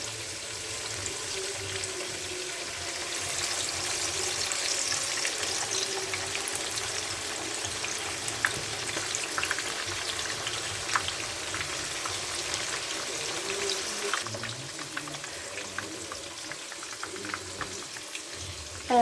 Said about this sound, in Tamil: ஆயில் வந்து ஹீட் ஆகிடுச்சு, சிக்கனை பொரிச்சிக்கலாம்